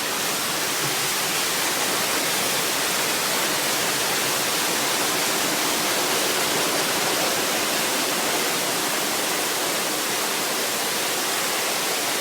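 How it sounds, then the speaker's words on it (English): A loud, constant rush of water gushing from a broken water main on a studio tour flood effect, steady broadband roar without pause throughout, close and overwhelming. "the water main is broken"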